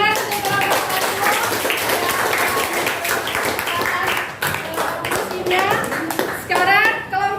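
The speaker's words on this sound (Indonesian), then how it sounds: "Ya, tepuk tangan." A classroom of students claps hands together in a lively, uneven burst during a teaching practice session, with children's voices chattering and calling out over the clapping throughout.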